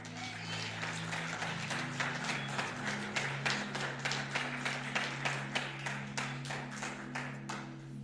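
Church congregation claps in a steady, even rhythm, each clap distinct, over a sustained musical drone, moderately near and continuous.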